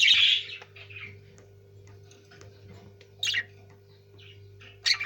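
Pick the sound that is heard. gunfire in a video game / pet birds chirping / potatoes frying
pet birds chirping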